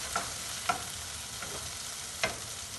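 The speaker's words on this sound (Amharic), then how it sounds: "ነጭ ሽንኩርት እና ዝንጅብሉ እንደዚህ ትንሽ ጠበስ ጠበስ ማለት" Garlic and ginger fry gently in a pan for okra, giving a soft, steady sizzle marked by a few light scrapes of stirring, without talk.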